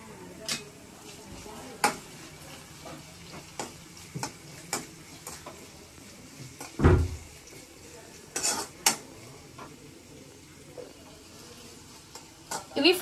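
Onions frying in a pan with light salt, under a low sizzle, punctuated by scattered clinks and scrapes of a utensil stirring against the pan and one louder knock midway.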